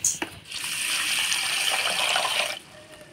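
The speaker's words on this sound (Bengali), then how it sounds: "এবার চাল আর ডালটা ধুয়ে নিব।" A tap gushes water over rice and lentils being washed together in a pot, a steady close splashing rush that runs for about two seconds before cutting off, preceded by a few light knocks.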